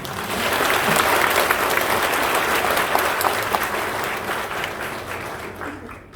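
A church congregation at a dedication and pastor's installation service claps together in sustained applause that swells quickly, holds strong, then gradually tapers off toward the end.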